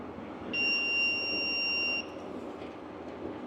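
A power probe emits a steady, piercing two-tone beep for about a second and a half while testing dash wiring on a Land Rover Series 3 restoration, sounding clearly over faint background noise with no speech.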